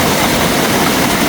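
A traditional water-powered chudara lathe in Aiselukharka, Khotang, driven by diverted stream water while turning wooden bowls, gives off a loud, steady rushing drone with no breaks.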